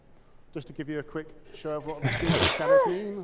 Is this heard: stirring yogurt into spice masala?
no